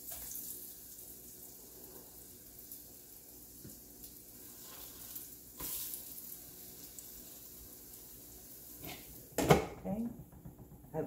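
Biscuit dough sizzles in a pan on a stovetop, a soft steady frying hiss with faint clinks and one louder clatter near the end.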